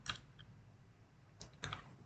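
A computer keyboard gives a few quiet, separate keystroke clicks, ending with the Enter key, heard close and alone in a quiet room.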